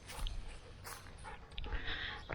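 A dog whimpers softly in a domestic setting, a few thin, wavering whines spread across a couple of seconds over faint background noise, with no talk.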